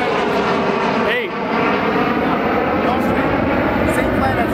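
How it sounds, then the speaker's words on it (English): A Gulfstream private jet taking off close by, its engine roar a steady, loud broadband rush that fills the scene as people talk over it. "Aircraft taking off right in front of us."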